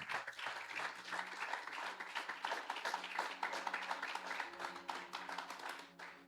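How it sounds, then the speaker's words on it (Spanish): A church congregation claps in praise, a dense stream of hand claps that continues for several seconds at moderate loudness, with no voices rising above it. "Denle un aplauso al Señor."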